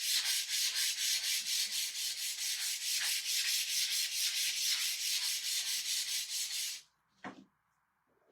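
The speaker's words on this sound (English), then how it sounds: "let me sand this down a little bit." Rhythmic back-and-forth sanding on a mason jar craft, a fast, steady scratchy rubbing that continues for several seconds before stopping, followed by a brief faint knock.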